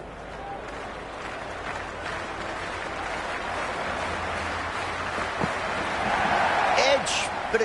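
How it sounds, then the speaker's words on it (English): Crowd at a cricket stadium cheering, a broad steady roar that swells toward the end, with a commentator talking over it. "already the crowd is up and about"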